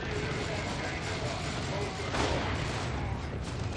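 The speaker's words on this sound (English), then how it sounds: "There's a barrage coming in." Dense, continuous roar of an artillery barrage in Dawn of War 2, a Warhammer 40,000 strategy game, with booming impacts and gunfire layered into a loud, unbroken wall of battle noise.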